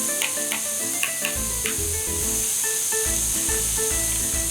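Butter sizzles on a hot grill while a vegetable chermoula sandwich cooks, a steady bright hiss running throughout with soft scraping and stirring sounds and a low hum beneath.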